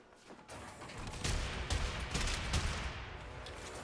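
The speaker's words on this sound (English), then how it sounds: "This is a nice shotgun." Shotgun blasts in the video game Warframe, a quick cluster of loud booming shots with a rumbling tail over steady game background noise.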